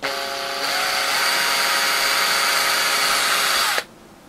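A power drill twisting wires together whirs steadily for a few seconds, its pitch shifting slightly at the start, then cuts off abruptly.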